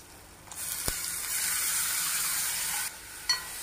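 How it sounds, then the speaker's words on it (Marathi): Soaked masoor dal hits hot oil spiced with salt, Kashmiri red chilli and garam masala, bursting into a loud sizzle that holds steady with stirring scrapes, then drops back near the end. "आता हे व्यवस्थित ढवळून मग आपण डाळ टाकून घेऊयात"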